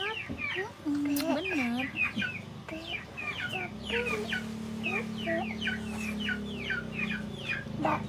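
Chickens cluck close by in a steady run of short calls, with a brief spoken word early on and a low hum beneath.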